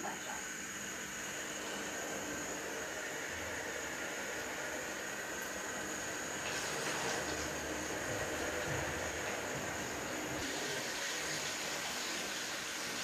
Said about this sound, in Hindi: और ये ऑयल हो गया गरम, और मैं इसमें डालती हूँ ये चिकन।